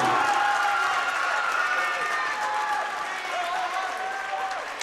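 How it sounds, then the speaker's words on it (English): Basketball crowd at Hilbert College during a girls' division final, roaring and applauding loudly and continuously, a dense sustained wall of cheers and claps that eases slightly toward the end. "The crowd roars at Hilbert College."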